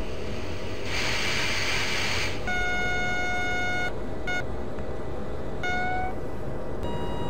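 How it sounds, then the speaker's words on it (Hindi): An Indian Railways electric locomotive in the Open Rails train simulator sounds its horn on departure: one long sustained blast, then a few shorter, clipped blasts over a constant hissing rumble. "अभी सामने डिपार्ट करते हैं हॉर्न बजा के।"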